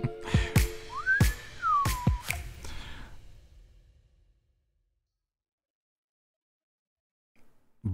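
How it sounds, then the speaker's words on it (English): A short whistled melody from a song in an interactive movie game rises and falls over several sharp clicks, then gives way to near silence. "I want it to cut back to him and he's doing that whistle in the song."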